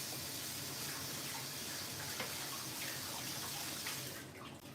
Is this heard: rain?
no